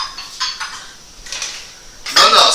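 Dishes and bowls clattering in a home kitchen while cooking lentil chilli, several sharp ceramic clinks and knocks in quick bursts, ending with a loud ringing clatter.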